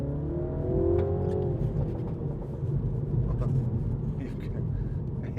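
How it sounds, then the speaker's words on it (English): A 2016 MINI John Cooper Works 2.0 hatch revs up loudly from inside the cabin as it accelerates through the gears, its engine note rising steadily with faint crackle underneath, and someone talks over it. "It's got the old machine gun fire after you accelerate."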